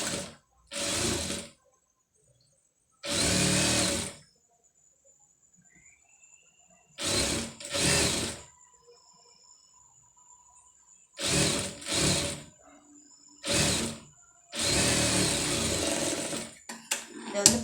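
A sewing machine stitches a folded blouse neck in several separate loud bursts, with short pauses between runs and a faint whine in the quiet stretches.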